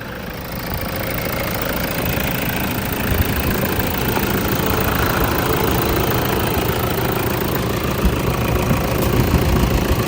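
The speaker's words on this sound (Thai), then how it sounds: "เดี๋ยวมาฟังเสียงเครื่องกันครับ" Diesel engine of a 2013 Toyota Fortuner 2.5 G automatic idling, a steady, loud, even rumble close to the engine bay with no other sounds over it.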